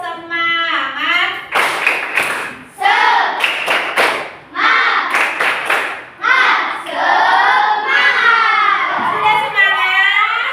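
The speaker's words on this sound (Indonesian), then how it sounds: "Coba sekarang tepuk semangat." Schoolchildren in a classroom doing a rhythmic spirit clap (tepuk semangat): sharp bursts of group clapping fall in a set pattern between loud, close chanted lines from the kids.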